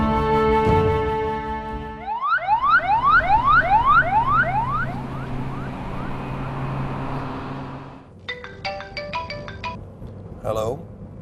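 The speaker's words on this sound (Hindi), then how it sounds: "एम्बुलेंस।" A vehicle siren, ambulance-type, rising and falling in rapid repeated sweeps after a brief tonal intro, loud and close, then fading into a stretch of road noise before short electronic beeps and a final warble.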